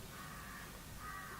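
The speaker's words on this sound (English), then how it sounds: "Or a bird. Like that." A crow caws faintly somewhere outside an open window, two drawn-out calls heard against a steady, noisy room background.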